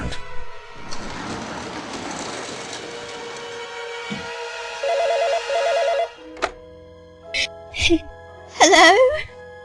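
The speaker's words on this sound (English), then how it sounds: "The phone's ringing." A telephone rings in an indoor drama scene, sounding in short bursts near the end, after a stretch of clattering, mechanical noise and background sound.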